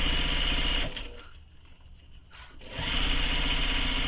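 A sewing machine runs a basting stitch on a backpack lining, a steady loud whirring hum that slows and drops away briefly in the middle before resuming at full speed.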